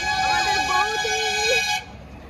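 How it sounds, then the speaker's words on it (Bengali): A bus horn blares loudly and continuously for almost two seconds, then cuts off abruptly, while a voice speaks over it. "বাসে হর্নটা এত জোর, বিরক্তি লেগে গেল।"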